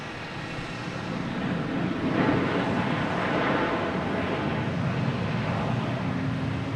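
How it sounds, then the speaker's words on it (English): A United Airlines Boeing 737-900 jet arrives from Chicago at Boston Logan Airport, a steady broadband engine roar that swells slightly midway and holds loud and continuous throughout, with no talk over it. "There's United Airlines coming in from Chicago."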